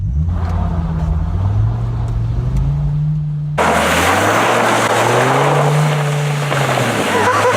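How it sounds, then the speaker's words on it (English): A Dodge Viper floored from a standstill, its engine roaring loud and close with rising revs, a sharp jump in intensity midway as it pulls hard and climbs through the gears. "I'm going to slam on the gas pedal and just see how the Viper handles"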